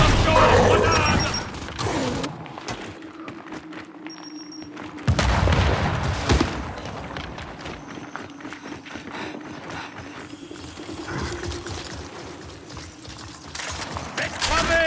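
Gunfire and blasts from a grenade going off in a video game, a dense run of shots and bangs with shouted voices over the top throughout.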